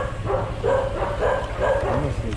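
Dogs bark and yip repeatedly at mid distance in Caloocan, a steady run of overlapping calls from a pack surrounding the group, with people talking underneath.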